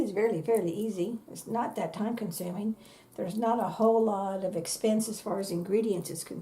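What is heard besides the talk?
No everyday noises stand out.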